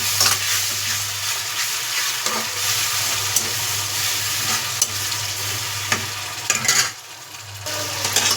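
Tomatoes and onions fry in a pan, giving a continuous close sizzle under a low steady hum. Repeated scraping strokes of stirring cut through, with a brief louder rustle near the end.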